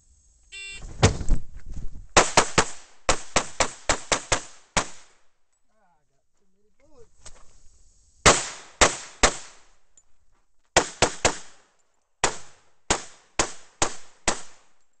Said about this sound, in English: I see it, shoot the berm and holster.